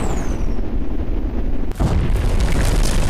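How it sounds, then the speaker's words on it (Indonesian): Rocket fire from the Rex Tank in a video game, a poison rocket launched from its back: a deep booming blast with dense rumbling noise, loud and continuous, with a sharp transient midway. "roket poison ya, roket beracun yang ditembakkan dari punggungnya"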